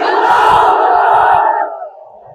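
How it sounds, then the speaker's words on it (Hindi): A political rally crowd roars in unison in response to a leader's call, a loud, dense mass shout holding for about a second and a half before fading off. "जितने लोग खत्म होना चाहते हैं मेरे साथ नारा लगाइए, नारे तकबीर।"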